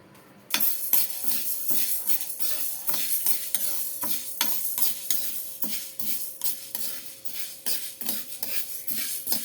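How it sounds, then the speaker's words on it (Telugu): Mung beans dry roasting in a pan, stirred with a utensil: repeated scraping and rattling strokes at a steady rhythm, close and clear, with a faint sizzle beneath and no talking. "పెసర ఆవకాయ ఓన్లీ పెసర్లో డ్రై రోస్ట్ చేసుకోవాలి"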